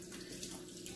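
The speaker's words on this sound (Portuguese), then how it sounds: "Liga a torneira aqui fraquinha." A kitchen tap runs gently and steadily under a faucet while raw chicken is rinsed in the sink, a continuous close water stream with no talk.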